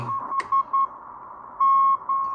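A steady Morse code tone keyed on and off in short and long dashes on a Drake R4A receiver with AGC off, clear over a faint hiss, with one brief crackle of static.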